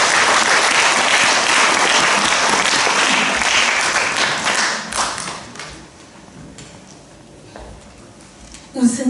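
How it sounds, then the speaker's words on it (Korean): Warm audience applause fills a Daegu literary association's joint book launch celebration, loud and dense at first, then thinning into scattered claps and fading toward the end, with a brief burst of sound at the close. "따뜻한 박수로 청해 듣겠습니다."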